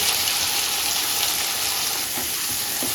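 Steady loud sizzle of chopped green chillies, tomato and onion with cumin frying in a pan, with faint stirring scrapes near the end.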